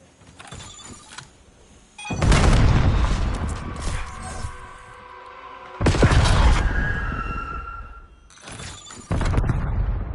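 A grenade explodes in a PS5 shooter: a loud, broad blast bursts out and rumbles, then a second heavy burst follows a few seconds later, with quieter game noise in between.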